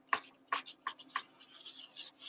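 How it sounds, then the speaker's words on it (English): Paper towel wiping oil into the ridged grates of a cast iron grill pan, four quick scraping rubs in a row followed by softer brushing, close and quiet. "I'm literally kind of like scooping or wiping the oil in all of the little grates."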